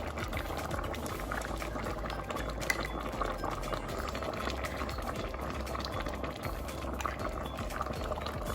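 Cow feet pepper soup bubbling in a pot, a steady, dense simmer of popping and gurgling that stays constant and fairly close with no voices.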